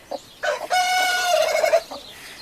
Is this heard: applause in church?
no